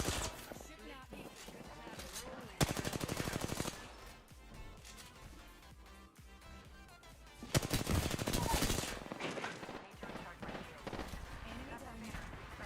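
Rapid machine gun bursts in a video game, loud crackling volleys in two main stretches, mixed with overlapping player voices talking throughout.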